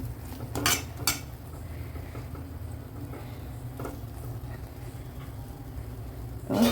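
A lid is set over a pot of ragi rava kichadi on the stove: a couple of metallic clinks early on, a quiet simmering stretch, then a louder clank as the lid settles.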